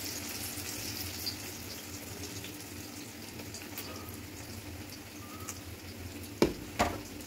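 Jackfruit pieces frying in hot oil on lowered heat, a quiet continuous sizzle with a few soft clinks near the end.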